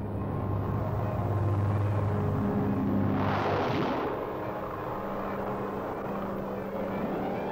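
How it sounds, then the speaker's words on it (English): Military aircraft, among them World War II Mustang fighters, take off for a combat zone, a loud continuous engine roar that swells to a rushing peak midway through, then settles back to a steady drone. "the planes take off for the combat zone"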